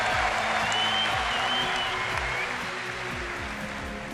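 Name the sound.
audience applause at the 2015 World Championship finals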